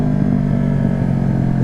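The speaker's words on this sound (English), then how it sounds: "Just wanted to hear that growl from my M4." A motorcycle engine growls loudly through an M4 exhaust, a thick, steady low rumble held close and alone for the whole short stretch.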